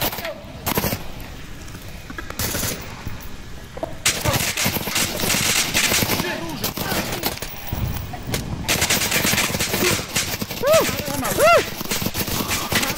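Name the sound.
lots of gunfire in a video game (Onward)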